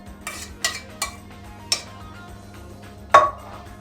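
A utensil stirring pasta with sauce in a dish for oven-baked pasta, sounding as a few separate clinks and scrapes against the dish at an uneven pace, with a faint low hum underneath.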